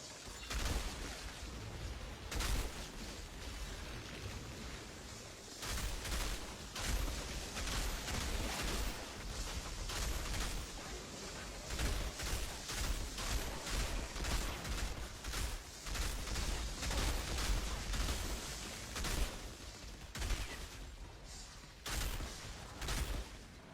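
Rapid bursts of video game gunfire crackle almost continuously, loud and dense, with repeated volleys and brief gaps between clusters of shots.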